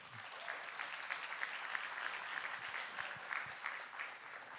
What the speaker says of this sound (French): je vous demande d'applaudir bien fort,